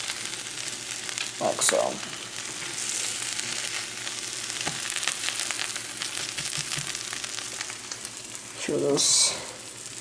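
A homemade sandwich sizzles on a grill in a steady, quiet crackle, with brief louder bursts of frying and a person speaking softly now and then.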